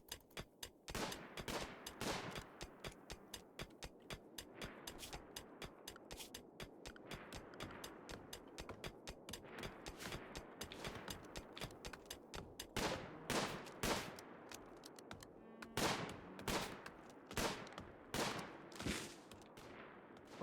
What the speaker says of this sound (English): Who's shooting so much?